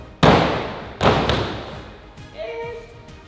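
A person landing a front flip hits the ground with two sharp, heavy thuds less than a second apart, each ringing out briefly, followed by quieter shuffling and a faint voice.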